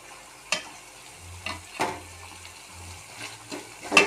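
Pirandai (adamant creeper) sautés in a pan, a low sizzle running underneath while a spoon scrapes and stirs in sharp, irregular strokes, close and fairly quiet.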